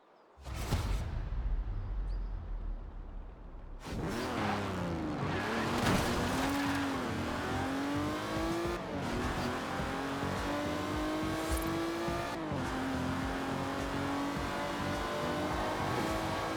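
Cars in Forza Horizon 4 race past loudly, with an engine revving and shifting up through rising pitch sweeps, a sharp whoosh of passing traffic and brief tire noise, close and continuous.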